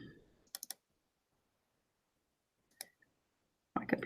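Computer mouse clicks on a desk: a quick cluster of three sharp clicks, then a lone click after a pause, with more clicking noise at the end and silence between.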